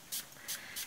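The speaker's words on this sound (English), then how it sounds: "And I thought to spray that with water" Three quick spritzes from a spray bottle, evenly spaced hissy bursts, close and fairly soft.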